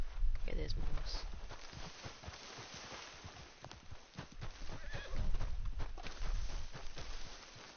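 A horse in the video game Red Dead Redemption 2 whinnies near the start, then hooves clip-clop steadily on hard ground while people talk over the sound.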